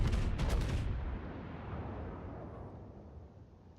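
Main battery guns of the North Carolina battleship firing in World of Warships: a deep, heavy broadside boom at the start that rolls into a long, fading rumble.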